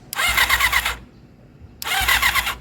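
A Honda CB400 cafe racer motorcycle engine starts up loudly in two close bursts of rough revving, with a short quiet gap between them, after starter motor repairs.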